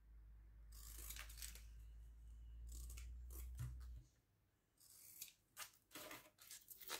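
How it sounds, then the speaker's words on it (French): Scissors snip through paper to cut out a pattern number, giving a series of close, crisp cutting crunches in two clusters, with a low hum in the first half and a quieter pause between. "Je vais découper également le numéro de l'ouvrage."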